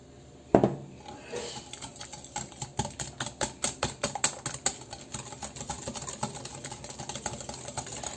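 Cornmeal batter with cotton-seed oil is stirred in a bowl with a utensil, producing a steady run of quick, close clacking taps against the bowl rim and sides, with no talking.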